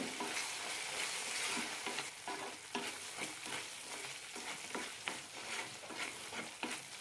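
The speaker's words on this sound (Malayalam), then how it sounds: "എണ്ണ തെളിഞ്ഞു വരുന്നവരെ വഴറ്റിയെടുക്കാം" Tomato pickle sautéing in oil in a pan gives a steady, close sizzle, broken by regular scraping stirs of a spoon through the thick mixture. No voices.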